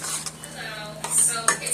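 A spoon scrapes and clinks against a pot while stirring thickening black-eyed peas cooked with smoked turkey drumstick, several close metallic taps and scrapes spread across a short burst, with no voices.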